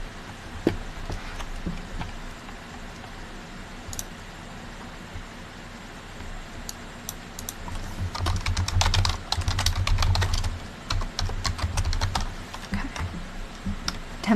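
Typing on a computer keyboard during a live chat session, a run of quick clicking keystrokes close to the microphone that grows busier and louder toward the end, with no talking.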